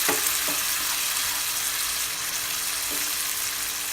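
Lemon juice hits a hot rice tempering in the pan, giving a steady, close oil sizzle with a few soft splashy pops near the start and near the end.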